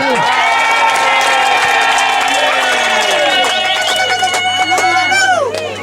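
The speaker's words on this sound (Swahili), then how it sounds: "Hebu mpigeni Mungu makofi." A wedding congregation at a couple's ceremony erupts in loud, sustained cheering and high ululating voices, with scattered clapping building toward the end, close and dense.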